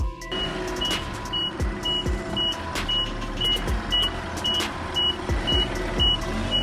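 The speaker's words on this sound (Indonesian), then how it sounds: "mobil yang parkir sembarangan itu diangkut menggunakan forklift dan diletakkan di seberang jalan" A forklift lifts and carries a badly parked car across the street, its reversing alarm beeping in a steady evenly spaced pulse over an idling engine rumble and passing traffic.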